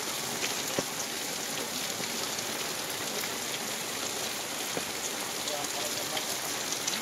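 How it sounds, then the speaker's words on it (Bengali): Heavy rain pours outside a shop in Mayapur as a steady, dense hiss of drops drums on surfaces, unbroken and loud throughout with only occasional sharper splashes. "এখন এই দোকানে দাঁড়িয়ে আছি, প্রচন্ড বৃষ্টি হচ্ছে।"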